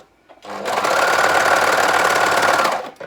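A sewing machine runs steadily through a seam in one continuous burst of about two and a half seconds, starting and stopping cleanly, close and loud with no talking.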